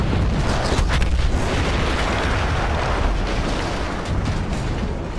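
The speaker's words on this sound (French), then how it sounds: "cette explosion fut l'un des plus beaux spectacles de cette guerre" A loud explosion in Battlefield 1, as a cannon is blown up, booms and rolls into a sustained, crackling roar that slowly settles, with no talking.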